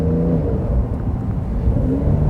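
A 2020 Porsche 911 Carrera S with a normally aspirated engine revs, heard from inside the cabin as a steady, muffled engine drone with wavering throttle changes.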